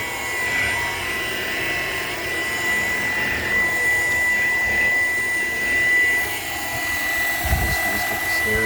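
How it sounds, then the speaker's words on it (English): A Shark handheld vacuum cleaner runs steadily in a laundry room, its motor a constant close whine and airy roar with a thin high tone throughout and a brief bump near the end. "They made this hand vacuum so I can use this."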